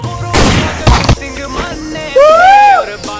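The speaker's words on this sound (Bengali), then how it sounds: "গুলির শব্দ" A couple of sharp, loud gunfire bursts crack in quick succession in an army-themed skit, followed by a voice speaking.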